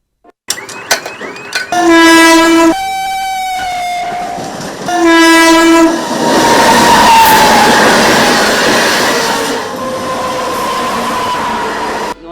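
A train rolls through a railway crossing, sounding two loud sustained horn blasts close by, followed by the rumbling roar and rattle of the wagons passing.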